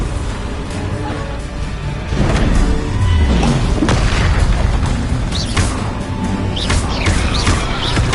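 In the Hogwarts Legacy video game, Confringo spell explosions go off in a loud, continuous stretch of booms and crashes, with swooshing spell effects mixed into a busy, rumbling battle soundscape.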